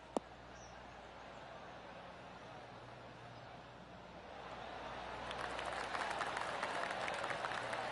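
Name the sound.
golf spectators clapping after a shot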